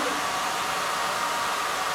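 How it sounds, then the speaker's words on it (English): A hair dryer blows in a steady, loud, unbroken whoosh, close by and alone, while candles are being made by image transfer. "without listening to a hair dryer for 15 minutes"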